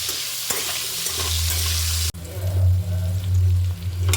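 Potatoes frying in hot oil with turmeric in a kadai, a steady close sizzle with stirring scrapes and a brief break midway, with no talking, while cooking a Bengali-style meat curry.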